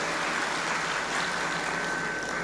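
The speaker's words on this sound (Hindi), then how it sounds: "एक बार जोरदार ताली बजाकर" A crowd gathered for a Jain monk's religious discourse breaks into vigorous applause. It makes a dense, continuous wash of clapping that stays loud and even throughout the short burst.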